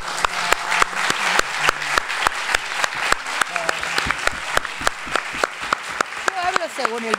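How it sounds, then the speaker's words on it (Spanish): An audience at a lecture claps in a loose, uneven rhythm of distinct, fairly close hand claps, with a voice speaking over the applause toward the end. "bueno, para el aplauso."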